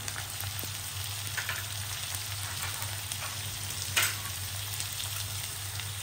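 Onion sizzles steadily in a pan after a tomato and ground masala paste go in, a constant crackling hiss with a single sharper pop partway through and no talking.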